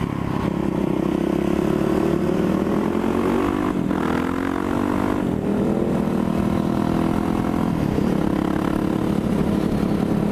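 A Yamaha WR450SM supermoto is ridden hard while chasing a Ducati 1299 Panigale on the road: a steady loud engine drone with rising and falling pitch under constant wind rush, with no voices.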